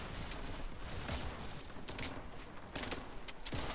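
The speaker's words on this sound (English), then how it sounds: "Are they shooting me?" Gunfire in the Fortnite video game crackles in dense bursts of rapid shots and booms, continuous and moderately loud throughout.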